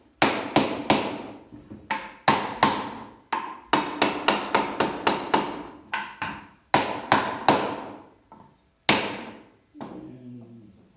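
Repeated sharp mallet blows drive a wooden bench's tenon joints home during a glue-up, a steady series of about twenty close, loud knocks with short pauses between groups, no talking.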